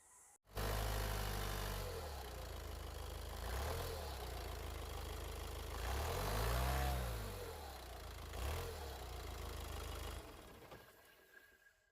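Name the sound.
used car engine being started and running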